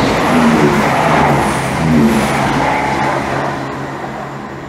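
A Chiltern Railways class 168 diesel multiple unit runs past at Seer Green, a steady loud roar of engine and wheels that swells and eases slightly as it goes by, with no talk over it.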